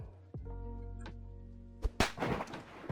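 Explosive charges detonate in the Prison Escape Simulator game: two sharp, loud blasts close together followed by a rumbling, crackling tail, after a steady low hum and a few thuds.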